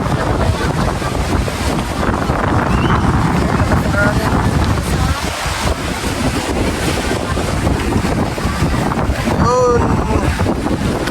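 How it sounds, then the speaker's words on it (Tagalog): Strong wind roars steadily across the microphone at the seashore, buffeting it loudly, with surf and open-water noise underneath throughout. "grabe yung lakas ng hangin"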